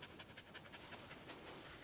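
Soft, rhythmic panting breaths pulse under a steady airy hiss, quiet and close with no talking.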